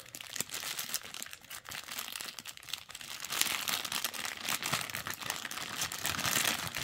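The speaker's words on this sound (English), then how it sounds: "we're going to get Jabba out of his little plastic bag here" Steady plastic bag crinkling and rustling goes on throughout while a Star Wars Jabba the Hutt action figure is unwrapped, close and fairly loud, with small crackles and snaps as the wrapping is handled.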